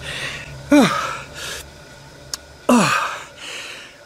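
Heavy, labored breaths after exercise: two loud gasping inhales with rasping exhales between them, close up, separated by a short pause.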